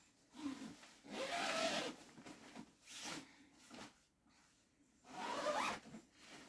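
A zipper is pulled along a bedding cover to close it, several raspy strokes in bursts of about a second with short pauses between, close and fairly quiet, with no talk.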